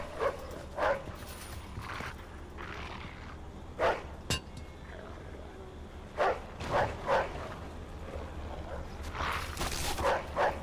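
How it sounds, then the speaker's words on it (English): A guard dog in the crime game Mafia 2: Definitive Edition barks in scattered bursts, several loud rough barks spaced irregularly with short gaps, over a low ambient background. "And there's the dog."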